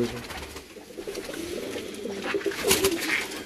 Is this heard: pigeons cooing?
yes